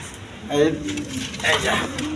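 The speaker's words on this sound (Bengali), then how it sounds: "এখানে এক পেয়ার ক্রিম বার আপনার একজিবিশন কবুতর দেখেন" A pair of cream bar exhibition pigeons coo softly in two short phrases at close range, with a voice talking over them.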